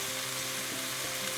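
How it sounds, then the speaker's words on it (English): Tomato paste sauteing in hot oil in a pan, a loud steady close sizzle with light stirring scrapes, no voices. "saute your tomato paste"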